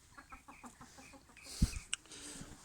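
Chickens in a henhouse cluck in short, repeated bursts at close range, with a louder squawk partway through and rustling around them.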